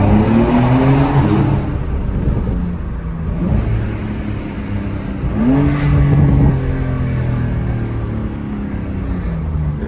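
A Porsche 911 sports car engine revs hard and loud, rising and falling in pitch through a couple of sweeps, with crackling exhaust pops and a steady rumble throughout.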